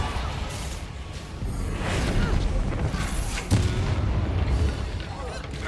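Reducto and Depulso spell blasts in the video game Hogwarts Legacy, heard as heavy booming impacts with whooshing bursts layered over loud game noise, while a player speaks over them.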